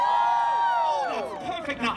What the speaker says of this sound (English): Let me hear some holiday cheer!